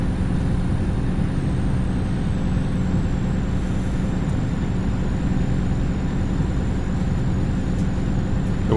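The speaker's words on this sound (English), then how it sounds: "The sounds are quite satisfying. Typical truck noises, I suppose." Truck engine droning steadily in the Truck World Australia driving game, a continuous loud low rumble with a faint high whine running throughout, no voices.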